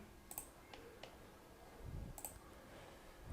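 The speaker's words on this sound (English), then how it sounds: "So I'm clicking on this add block icon" Mouse clicks from a computer setup while working in a WordPress web editor: a few light, sharp clicks spaced irregularly, faint and close, with no talking.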